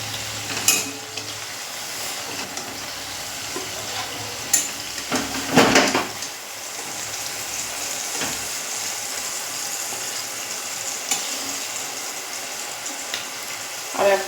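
Chicken paturi wrapped in bottle gourd leaves fries in hot oil, a continuous soft sizzle punctuated by scraping stirs and metallic clinks of a utensil against the pan.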